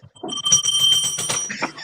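A small bell rings in a quick series of bright metallic dings, loud and close, with a short ringing tail at the end.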